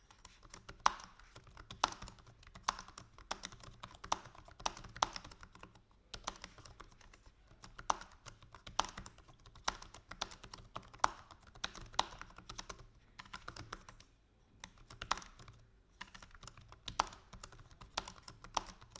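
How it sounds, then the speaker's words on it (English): Steady, quick typing on the backlit laptop keyboard of an ASUS ROG Flow X13: soft, closely spaced clicks and taps with short pauses between bursts. "So we will do a type test sound."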